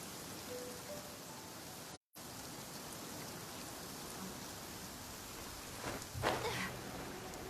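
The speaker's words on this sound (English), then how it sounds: "Let us find shelter from the rain." Rain falls steadily in the video game Genshin Impact as an even, soft hiss. One brief silent gap breaks it, and a faint splashing flurry comes near the end.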